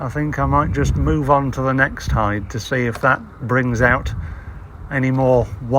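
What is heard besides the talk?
No everyday noise stands out behind the speech.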